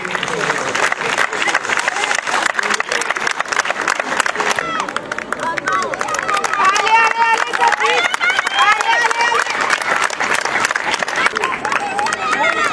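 Spectators clap and cheer as runners finish a 10 km road race in Toulouse, a continuous crowd rumble of applause under an announcer's loud running commentary over the PA.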